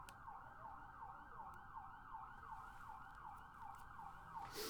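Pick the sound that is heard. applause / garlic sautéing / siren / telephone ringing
siren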